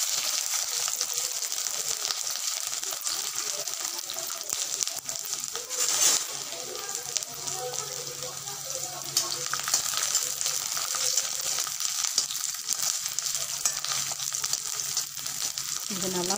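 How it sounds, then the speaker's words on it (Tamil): Ginger and black pepper fry in sesame oil in a pan, a loud, steady hissing sizzle that holds for the whole stretch, with an occasional stir adding a brief scrape. "நம்ம நண்டுக்கு தேவையான இஞ்சியும் மிளகையும் நம்ம நல்லெண்ணெயில் வதக்கி எடுத்துக்கலாம்"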